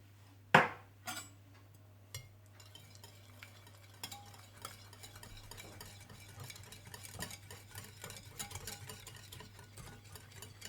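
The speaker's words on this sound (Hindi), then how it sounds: "चॉप किया हुआ बारीक लहसुन, व्हाइट पेपर पाउडर और नमक डालकर अच्छी तरह से मिला लें।" A spoon stirs shawarma garlic sauce made of lemon juice, finely chopped garlic, white pepper and salt in a bowl, with a few sharp knocks at first, then a soft, steady scraping and swishing that runs on, close and quiet.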